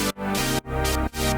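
A synth tone run through a ShaperBox filter manipulator for a K-pop track pulses in three chopped, rhythmic swells, the filter sweeping open and shut with brief dropouts between bursts.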